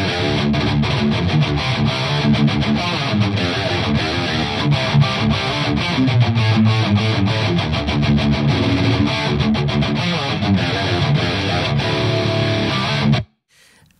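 Four heavily distorted electric guitar parts play together, shaped with amp-simulation plug-ins such as Amplitube, Waves and Brainworx. They form a dense, loud, continuous rhythmic wall of sound that cuts off abruptly near the end.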